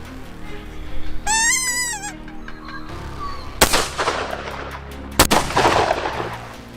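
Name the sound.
rifle gunshot while hunting in South Africa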